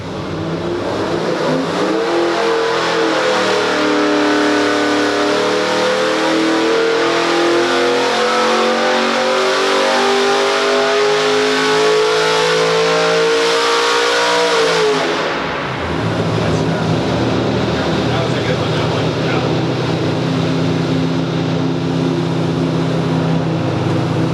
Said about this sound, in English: we were invited to see a dyno pull at Ron Parr's and see just how many ponies were pumping out of that 406-inch small block